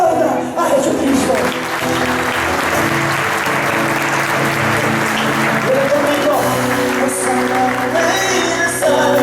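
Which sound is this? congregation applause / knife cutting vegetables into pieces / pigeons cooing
congregation applause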